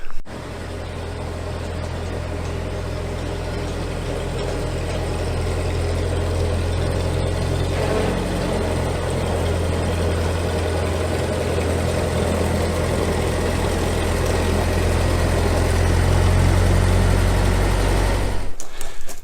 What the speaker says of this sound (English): This is my old Ferguson tractor.